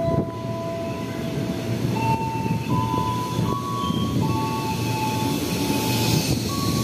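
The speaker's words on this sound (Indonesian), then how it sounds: "ini masuk KRL Cikarang ya, masuk jalur 1" KRL Cikarang commuter train rolling into track 1 of a Jakarta station, steady rumble of railcars with several sustained metallic wheel squeals shifting pitch, close and continuous throughout.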